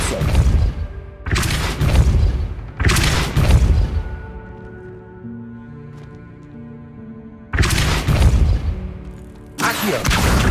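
The Depulso force spell cast in the Hogwarts Legacy video game: several heavy booming blasts with thudding impacts, spaced apart, with a soft sustained musical tone filling the quieter gap between them.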